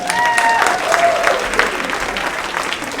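A comedy-club audience claps and cheers for a comedian coming to the stage, dense steady applause filling the room with a few whoops on top.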